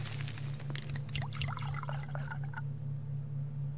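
Crops being watered in the survival video game Subsistence, a soft splashing pour of water over a steady low hum, lasting a couple of seconds before fading to quiet.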